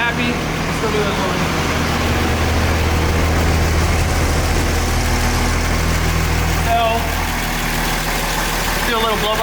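A turbocharged truck engine idles steadily after dyno runs, with a loud, constant low rumble and an even drone throughout. Someone speaks briefly over it.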